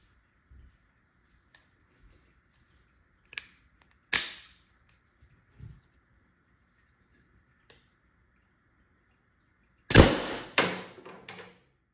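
A Tippmann TiPX paintball pistol, set up as a less-lethal marker with a stronger magazine spring, fires a few sharp, separate shots in a quiet space, including a louder cluster of bursts near the end.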